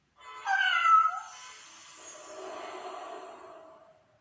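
A single drawn-out cat meow, rising then trailing off into a softer, lower whine, close and fairly quiet with no other sounds.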